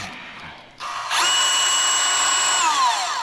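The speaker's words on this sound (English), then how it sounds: "Alright, bandsaw." A bandsaw in a workshop building seats for a small duck boat starts up with a rising motor whine, then holds a steady, loud, high-pitched hum, its tone sagging slightly near the end as if under load from cutting; no talking.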